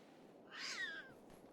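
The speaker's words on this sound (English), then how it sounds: "Ah, cat! Found him" A cat meows once inside a video game, a short rising and falling call heard alone over a quiet steady background.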